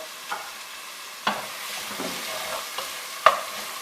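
Lobster tails fry in hot oil, giving a soft, close sizzle broken by a few sharp clatters and stirring knocks from the pan.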